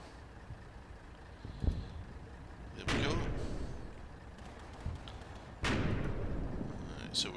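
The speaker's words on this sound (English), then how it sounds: "sure I saw some mortar rounds coming in" Mortar rounds landing in the Combat Mission wargame, set around Aachen, with two heavy booming impacts several seconds apart, each followed by a rumbling tail, over a low battlefield ambience and smaller thuds.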